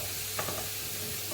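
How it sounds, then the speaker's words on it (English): Onions fry in a pan for a Greek chicken stew with a soft, continuous sizzle and a brief stir near the start. The sound stays quiet and close, with no talking. "I'm just going to fry the onions in this pan for 3 or 4 minutes"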